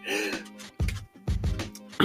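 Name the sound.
throat clearing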